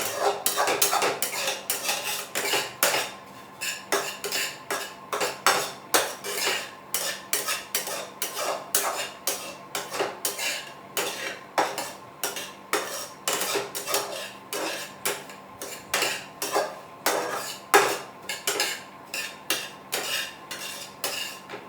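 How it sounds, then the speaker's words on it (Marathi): Sheera being roasted in ghee in a pan, a metal spoon scraping and clinking steadily against the pan in quick repeated strokes, close and alone with no talk. "आता खरपूस भाजून घ्यायचं."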